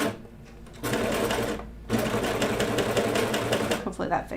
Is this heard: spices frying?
no